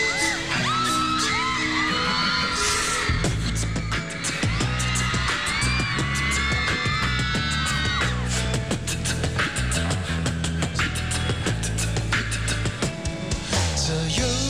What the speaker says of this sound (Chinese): 尖叫